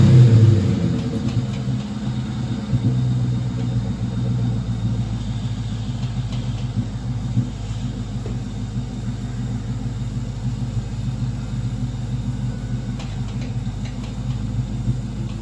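1996 Ford Cobra pulling away, a low engine rumble that is strongest at first and then eases into a steady, fainter drone as the car moves off, with no talk.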